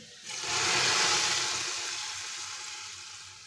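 A fried-onion baghar tempering is poured into a pot of beef nihari, setting off a loud sudden hiss that swells within half a second and then fades slowly into a softer, steady sizzle, with no voices.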